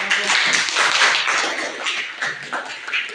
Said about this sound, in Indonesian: kita kasih tepuk tangan buat kelompok 1